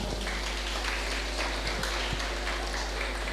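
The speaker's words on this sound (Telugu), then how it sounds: "గట్టిగా చప్పట్లు ఒకసారి." Audience applause at a community centenary celebration, a steady wash of many hands clapping from a hall crowd, fairly faint and continuous.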